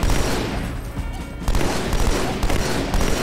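An energy pistol fires in Halo 2: Anniversary, with dense, loud bursts of sci-fi gunfire. A short lull comes in the middle before the rapid volleys resume amid the surrounding combat noise.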